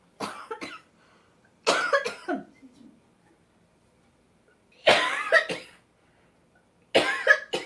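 Four separate fits of harsh coughing, each a cluster of quick hacks, with quiet gaps between them; close and fairly loud.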